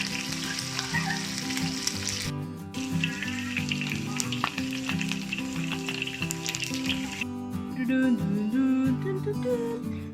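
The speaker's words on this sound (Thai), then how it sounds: "หมูสามชั้นทอดเกลือนะคะ ได้ลงกระทะไปแล้ว" Salted pork belly sizzles and crackles steadily in a hot pan, a dense continuous frying hiss with bursts of popping throughout.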